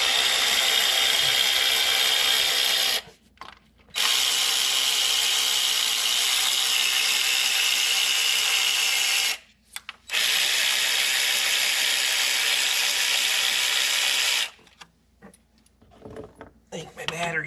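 Ratchet wrench backing out engine bolts on a 2014 Ford Explorer, heard as three long, loud stretches of fast steady clicking up close, broken by short pauses and ending with a few quieter handling noises.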